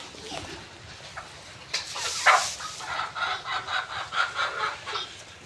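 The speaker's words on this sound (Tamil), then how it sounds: "இந்த கோழி வந்துட்டு முட்டை வைக்கிற உட்காந்துருந்துச்சு" A laying hen clucks in short repeated bursts, moderately close and fairly quiet, with a soft background hum.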